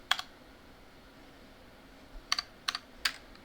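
Keys clatter on a computer keyboard in short bursts, a quick cluster at the start and then several separate clicky taps after a pause, close and clear.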